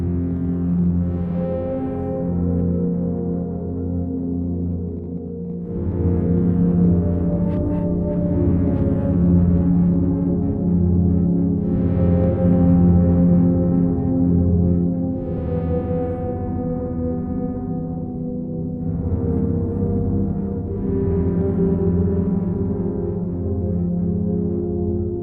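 Layered ambient textures from the Evergreen Alt Piano sample library all sounding together, a dense sustained drone with soft swelling pads that rise and fade in long waves, no voices.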